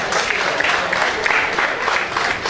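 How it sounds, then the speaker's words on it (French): A gala audience applauds the event's patron with a dense, steady wash of clapping that holds at an even loudness throughout. "Merci d'applaudir le parrain comme il se doit tout de même."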